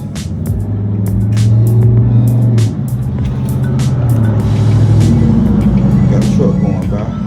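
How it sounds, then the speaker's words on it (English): A truck rumbles past on a nearby road at dusk, its deep engine drone swelling and easing as it passes, while someone talks over it during a motorcycle accessory install. "Truck going by."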